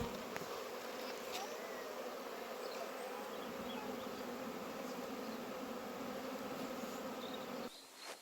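A small honeybee swarm that has left a nucleus hive buzzes during collection high up. The drone is continuous and even, with occasional individual bees passing close, and there is no talking.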